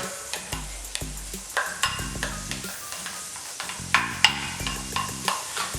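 Vegetables sizzling in melted butter in a skillet for a shrimp and sausage étouffée, a soft frying hiss broken by frequent clinks and scrapes of a utensil stirring, with no voices.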